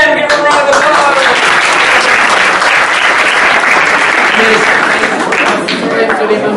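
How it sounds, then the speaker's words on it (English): A room full of people breaks into steady, dense applause that holds for several seconds at full strength, with a little crowd noise mixed in, before tapering slightly near the end. "give a round of applause!"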